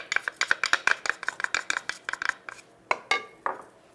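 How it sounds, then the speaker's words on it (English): Dry ingredients for dumpling dough, seasoned with white pepper, are stirred briskly in a bowl. A utensil scrapes and clinks against the sides in quick, rhythmic strokes that slow into a few separate knocks near the end. "Those are my dry ingredients, stirring them around."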